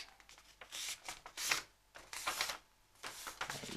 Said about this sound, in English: flip your page over and then make an end-to-end fold across here